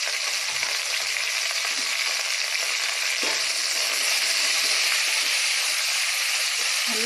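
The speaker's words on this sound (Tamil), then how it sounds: "फ्रेंड्स, भिंडी ऐसे अच्छे से फ्राई कर लेंगे." Okra (bhindi) frying in a pan with oil and salt, a steady close sizzle and hiss running throughout with faint stirring scrapes, no voices.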